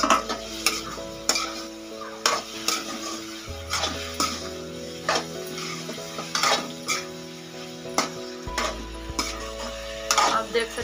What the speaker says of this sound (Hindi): अब इसमें हम आलू और गोभी डाल देंगे जो पहले से ही फ्राई हो चुका है।